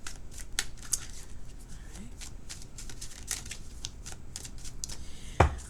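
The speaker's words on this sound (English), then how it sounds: "Let's do 3 more shuffles." Close, soft bursts of crisp papery flicks and taps as tarot cards are shuffled over and over, with a faint background hiss.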